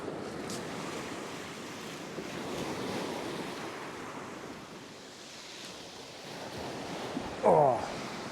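Sea waves breaking and washing around a fishing line at sea, a steady broad surf wash under wind buffeting the microphone, with a brief sharper splash near the end.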